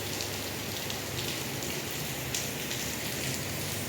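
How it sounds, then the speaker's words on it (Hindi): Heavy monsoon rain pours steadily on a home during a power cut, a dense, continuous hiss of drops hitting surfaces close by, with no voices. "लेकिन बारिश बड़ी अच्छी हो रही है।"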